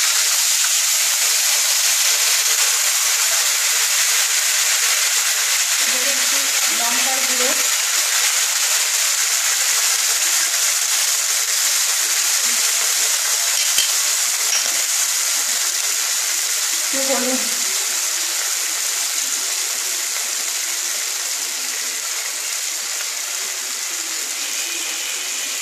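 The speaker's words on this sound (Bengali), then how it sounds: "একটু জল দিয়ে দিলাম" Hilsa fish head tamarind curry simmers in a pan as water is added, a steady loud hiss and sizzle throughout, with brief stirring or clinking sounds now and then.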